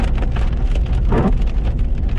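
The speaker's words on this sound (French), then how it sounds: "Ah, ça y est, grêle. Il y a de la grêle." Hail and heavy rain fall during a spring storm, a loud dense patter of hits on surfaces with a brief louder rumble in the middle.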